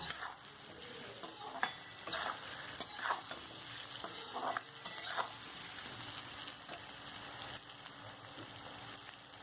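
Boiled potatoes cut into large pieces fry and sizzle in a pan for paneer pulao, with repeated stirring scrapes over a steady, moderately loud crackle and no talking.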